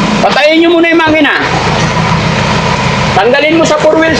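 A Ford Raptor pickup truck's engine idles loudly and close by with a steady low rumble, while people talk over it on a roadside slope where the truck has gone over an edge.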